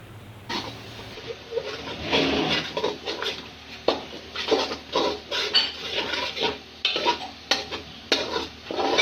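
Spices with turmeric and salt roast in a hot pan for dhaba-style daal mash, a steady sizzle broken by repeated scraping stirs of a spoon against the metal, close and fairly loud with no talking.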